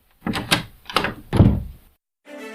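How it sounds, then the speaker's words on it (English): A doorknob turned and a door pushed open, an audiobook sound effect, heard as a few close wooden clunks and rattles in quick succession, then a short silence before a voice begins. "Surely it would be locked. I turned the knob anyway."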